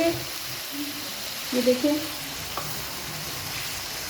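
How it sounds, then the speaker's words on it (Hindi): Chicken karahi with tomatoes frying in a pan, giving a constant crackling sizzle while it is stirred, with a few scraping stir sounds; someone speaks briefly over the cooking. "इस तरीके से इसमें डाल के हिलाएंगे"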